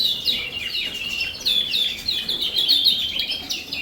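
Several cage birds in an indoor bird room chirp in quick, bright, overlapping bursts that repeat through the stretch, close and fairly loud, with no talk.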